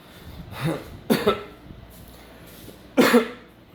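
A man with asthma, in pain that is spreading to his chest, coughs involuntarily in three sharp, raspy bursts: one short cough, a double cough a moment later, then a final harsh cough after a pause, all close and alone.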